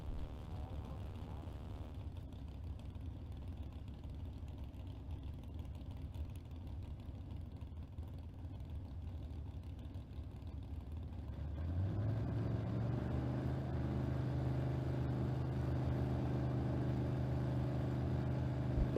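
A Camaro drag car and a Mustang drag car with a hood scoop idle at the starting line while staging, a low steady engine rumble that grows fuller and louder partway through as both cars bump in.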